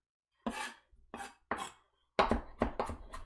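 A sharp knife chops fresh cilantro on a cutting board, close and clear: three separate thuds, then a quicker run of four or five chops, with silence in between.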